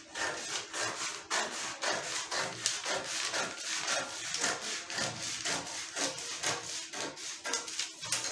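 Fabric being cut by hand for a peplum, a steady, rapid run of rasping, rubbing snips, close and continuous with no talking.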